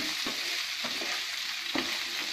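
Frozen mixed vegetables with capsicum stir-fried for semiya pulao, a loud continuous sizzle broken by three sharp stirring scrapes, close and alone.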